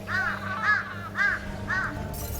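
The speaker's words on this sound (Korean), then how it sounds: "하늘을 뒤덮은 까마귀 떼." A flock of crows swarming over a municipal landfill caws in four loud, evenly spaced harsh calls, close and clear over a steady low hum.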